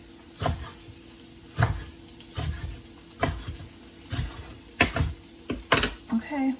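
Swiss chard and tofu cook in olive oil in a pan, a low background sizzle punctuated by repeated bursts of stirring and scraping every second or so, with a voice briefly audible near the end.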